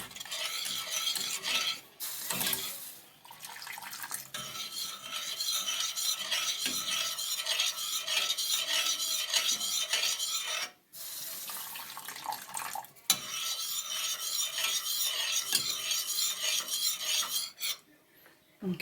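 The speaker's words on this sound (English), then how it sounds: "Scrape all of those bits off the bottom and round the edges, get them all in." Golden syrup mixture scraped and stirred in a pan, a steady rasping of the utensil against the bottom and sides in long continuous strokes, close and fairly loud, broken by a few brief pauses.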